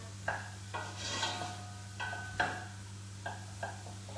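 Onions being stirred in a pan for a five-ingredient chilli: a handful of separate scraping and clinking strokes of a utensil against the pan over a low steady hum, with a faint sizzle and no talk.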